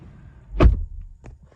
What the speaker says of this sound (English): Let's go ahead and close up this door.